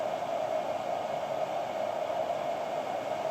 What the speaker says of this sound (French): je suis presque sûr qu'il y a un ventilateur parce que ça fait un bruit de malade